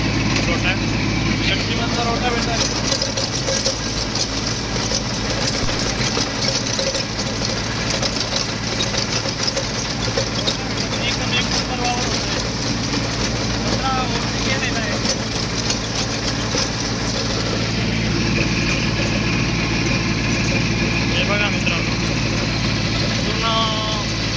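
A loud, steady tractor engine rumble runs without a break from start to finish, a constant mechanical drone close by in a farm field.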